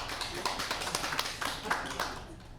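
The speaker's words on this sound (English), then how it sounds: "That was really weird clapping" A live audience at a comedy show gives a brief, thin, irregular round of clapping, a scattered patter of individual claps that stays uneven for a few seconds.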